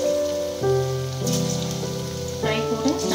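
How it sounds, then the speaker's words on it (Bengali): Chicken pakora pieces deep-fry in refined oil with a steady crackling hiss, partly masked by louder tonal music. "পিসগুলো আমরা চিকেনের পিসগুলো সব এখন ফ্রাই করতে দিয়েছি।"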